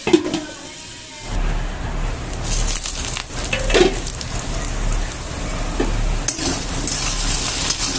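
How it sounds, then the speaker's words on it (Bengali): Potatoes fry in oil in a pan, a loud close sizzle with bursts of crackling and occasional stirring scrapes. "এই তেলের মধ্যেই কিন্তু আমি আলুগুলোকে একটু ভেজে নেব"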